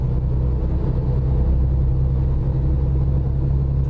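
A truck engine in American Truck Simulator drones with a steady, low rumble, loud and constant with no change in pitch.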